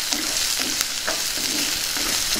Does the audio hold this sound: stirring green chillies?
yes